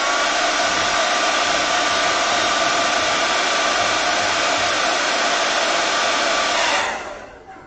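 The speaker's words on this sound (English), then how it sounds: "Bear with me guys, I know you hate the hairdryer." A hairdryer blowing on a watercolour painting of a lighthouse runs as a loud, steady whoosh for about seven seconds, then cuts off and winds down.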